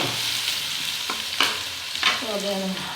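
Onions being stirred and fried in a pan for a mixed potato, carrot and pea vegetable dish: a steady close hiss of sizzling with a few sharp scraping and stirring clicks, with no talking.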